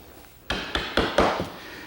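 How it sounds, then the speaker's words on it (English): Four or five sharp knocks on 3/4-inch plywood ring out close by in a quick, uneven series as a dust frame is dry-fitted, each with a short woody decay. "Here I'm just dry fitting together a dust frame made out of 3/4 inch plywood"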